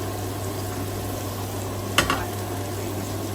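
Seafood and tomatoes cooking in a hot pan for a garlic butter seafood salad, with an even, continuous sizzle and one short clack of a utensil in the middle.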